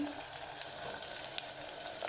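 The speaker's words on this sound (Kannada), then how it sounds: "ಈಗ ಒಂದೊಂದಾಗಿ ಒಗ್ಗರಣೆ ಹಾಕೋಣ. ಈರುಳ್ಳಿ ಹಾಕ್ತಾಯಿದ್ದೀನಿ" Onions sizzling in hot oil for a tempering while rava is cooked in a pressure cooker, a steady close broadband frying hiss with faint crackles throughout, no talking.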